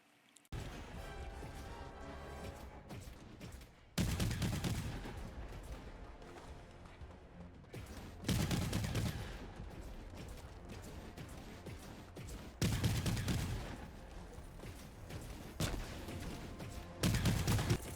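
Strider enemy gunfire in Helldivers 2 comes in several loud, dense bursts of repeated shots, each lasting a few seconds, with short quieter gaps between them.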